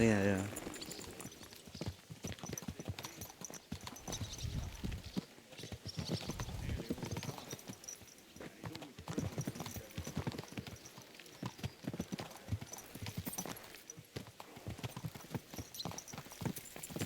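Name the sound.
horse hooves clip-clopping in video game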